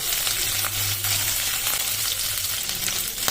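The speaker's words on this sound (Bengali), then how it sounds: "হালকা ফ্রাই করে নেব চিংড়ি মাছটিকে" Prawns lightly frying in hot oil for a jackfruit and prawn curry, giving a steady close sizzle and crackle that continues evenly throughout with no voices.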